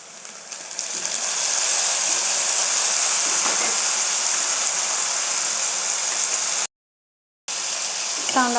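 Tomato pieces tossed into frying onions for a mulakkada tomato curry raise a loud, continuous close sizzle and hiss that drops out briefly before returning.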